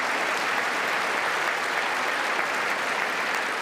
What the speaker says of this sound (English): Schumer's clapping.